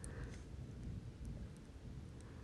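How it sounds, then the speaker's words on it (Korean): Rain at night in Bologna with a deep rolling rumble of thunder, a low continuous roar under fainter pattering drops, heard without any voices. "제가 생전 처음 들어보는 가까이에서 가장 큰 천둥 소리도 듣습니다."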